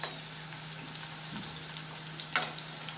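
Okra (bhindi) fries quietly in oil, a faint steady sizzle with a low hum and a brief stirring clatter near the end, no talking.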